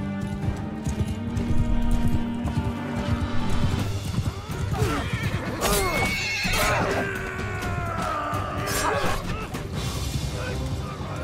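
Horses in the medieval battle game Mount & Blade 2: Bannerlord neigh and whinny loudly amid the clatter of hooves and battle noise, while someone talks over the action.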